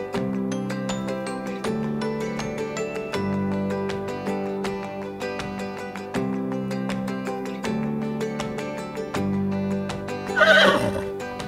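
A Fisher-Price toy sounds a horse's neigh, a brief whinny near the end over steady, loud looping children's music with a regular beat.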